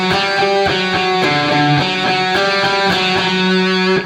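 A heavily distorted electric guitar double-picks a rapid riff, rhythmic and loud throughout, with each note hit twice and the line moving between a few pitches over about four seconds.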